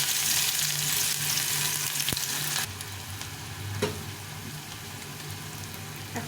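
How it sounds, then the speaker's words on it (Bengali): Chopped onion and a dried red chili frying in hot oil for ghugni, a loud dense sizzle that drops to a lower, steadier crackle partway through, with a few sharp stirring knocks. "তেলের মধ্যে একটা শুকনো লঙ্কা দিলাম আর এই পেঁয়াজ কুচিটা দিয়ে দিই।"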